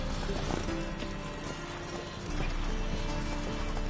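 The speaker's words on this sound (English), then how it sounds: "Gotta calm all the horses before they wake the guards." Horses snort and shuffle with a few hoof clops and a faint whinny over a steady background ambience.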